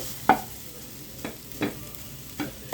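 Brief sizzling bursts as mustard seeds fry in a pan of hot oil, about four separate crackles spaced apart over a low quiet background, close by and without speech.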